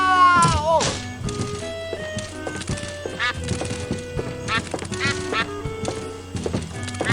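A duck quacks in the Escape from Monkey Island adventure game, with a few sharp, nasal quacks mixed among clunks, thuds and other game effects over steady background music.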